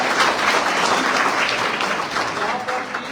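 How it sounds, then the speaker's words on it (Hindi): A crowd at a Karni Sena justice-movement rally in Chhattisgarh claps loudly and continuously for about three seconds, a dense, sustained burst of applause with no speech over it. "एक बार जोरदार ताली"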